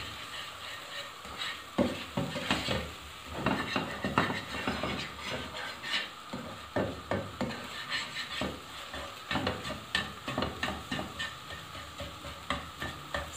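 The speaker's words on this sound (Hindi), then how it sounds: "इसको इस तरह से हिलाते जाएंगे और इसको अच्छी तरह से हम पका लेंगे।" Chicken egg fried rice is stirred and scraped around a hot pan, with steady sizzling and repeated metallic clinks and scrapes of the spatula close up, no talking.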